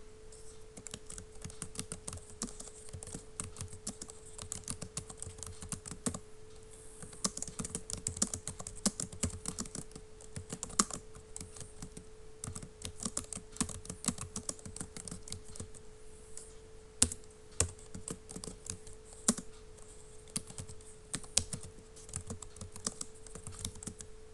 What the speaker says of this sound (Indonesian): Kita coba mengetik teksnya terlebih dahulu.